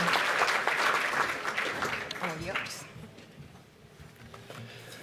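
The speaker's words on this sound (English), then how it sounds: "So a big round of applause for UFV for being a key partner" An audience at a cultural diversity awards ceremony applauds, loud and dense at first, then fading out over a few seconds to a quieter room where a voice is heard.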